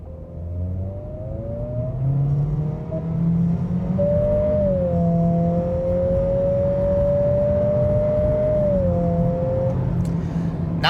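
A 2025 Acura ADX A-Spec SUV floored at full throttle from inside, its engine droning loudly and rising steadily in pitch with a brief dip at a shift, continuous for about eleven seconds with no talk.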